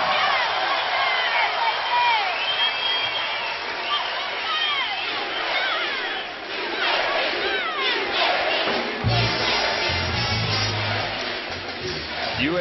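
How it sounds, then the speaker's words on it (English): A packed crowd at a college basketball game between Middle Tennessee and UAB roars and cheers, with loud shouts and whoops rising and falling. A low horn-like tone sounds near the end. "The crowd rises in appreciation."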